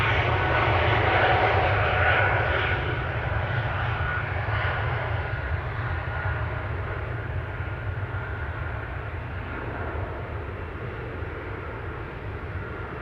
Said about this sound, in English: Next will be a KLM 737-800 going to Barcelona.